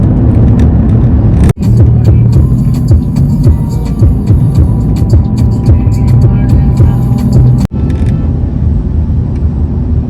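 Car cruising along the Durgapur Expressway on a Kolkata to Purulia road trip, a steady loud interior road rumble and engine hum with two brief dropouts, no talk.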